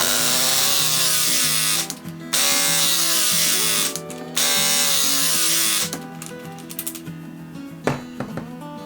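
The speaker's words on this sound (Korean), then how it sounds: "여기에서 올라가는 유압이 6톤 그대로 압력을 가해서 터미널을 찍기 때문입니다." A Klauke battery-powered hydraulic crimping tool pressing a terminal with six tonnes of force: a steady, loud motor whine runs in three long stretches separated by brief pauses, then gives way to softer clicks and a sharp release near the end.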